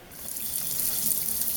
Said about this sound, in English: So I got the water running hot.